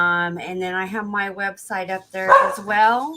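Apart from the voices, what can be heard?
dogs barking in the background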